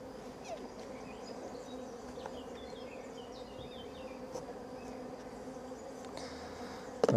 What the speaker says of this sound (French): Sachant qu'il y a toujours quelques pauvres abeilles qui...